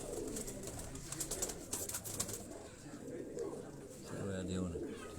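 A pigeon held near a keeper's loft in Quetta gives soft, faint coos close at hand, partly masked by background voices and handling noise.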